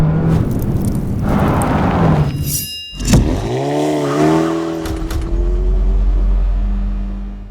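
A 2025 Hyundai Tucson driving off, the engine rising smoothly in pitch as it accelerates and settling into a steady cruising hum, with a brief whoosh and clunk at the start.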